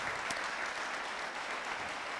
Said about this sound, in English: would you please all give them a warm round of applause